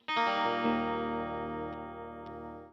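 An electric guitar chord rings out clean and sustained through an amp, decaying slowly over a few seconds with a couple of light string noises.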